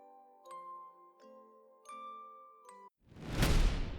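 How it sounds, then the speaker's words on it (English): Wind chimes ring out in four separate struck clusters of clear, sustained metallic tones, each left to shimmer briefly in silence before a sudden loud rushing burst cuts in at the end. "The disembodied sound of wind chimes guts me."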